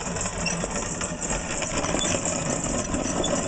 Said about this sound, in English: there's just a little auger in the bottom that pushes the grain into the iron burrs.